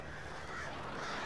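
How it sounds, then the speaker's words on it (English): Crows cawing in the video game Alan Wake Remastered, a brief harsh burst of several birds close together over a dense, noisy game background. "Goddamn birds."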